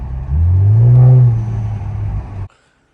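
Infiniti Q50/Q60 with VR30 engine, MBRP exhaust, turbo and blow-off valve, a loud close surge of engine rising and easing off over about two seconds, then cutting abruptly to silence.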